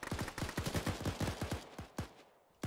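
Rapid bursts of gunfire in the military video game Arma during a ShackTac session, a dense run of sharp close shots with fast echoing tails, thinning out before a last loud report.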